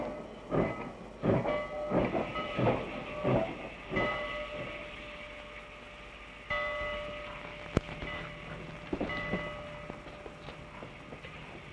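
A train rolls along the rails with a rhythmic clickety-clack, steady hiss and occasional squeals and clanks of the cars; no voices.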